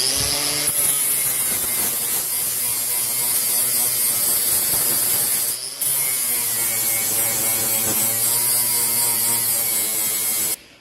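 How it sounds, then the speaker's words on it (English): An angle grinder fitted with a flap disc works mill scale off a steel plate, a loud continuous high whine with one brief break midway, close by and without any talking. "We'll get our flap disc now on our grinder."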